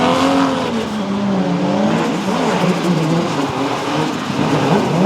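Drift cars race at Pukekohe with a Nissan R34 leading, their engines roaring loud and steady with wavering revs and tyre squeal throughout.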